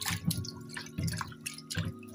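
Water drips and splashes rhythmically while vegetables are washed in a home kitchen, producing close, soft drops in a repeating pattern roughly every three-quarters of a second.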